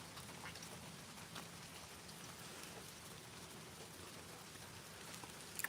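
Steady rain falling outdoors, a dense even patter of drops on surfaces that continues without pause, fairly faint and close, with no voices.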